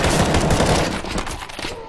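Sustained automatic gunfire from players shooting zombies in CS:GO Zombie Escape on a Halo CE map, dense and loud at first, then thinning out toward the end.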